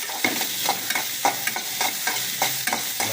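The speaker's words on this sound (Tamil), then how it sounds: "நல்லா வதக்கலாம். குடமிளகா, ஒரு குடமிளகா ஃபுல்லாக போட்டேன்." Capsicum sautés in a pan for a diet egg podimas, with a steady close sizzle broken by rhythmic scraping stirs about every half second and no voices.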